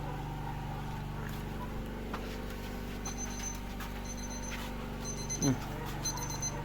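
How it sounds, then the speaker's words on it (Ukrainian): Repeated short electronic beeps in bursts from a DREVOS smoker's compressor, over a steady mechanical hum and motor drone, with a brief low voice-like sound midway. "Пищить знову."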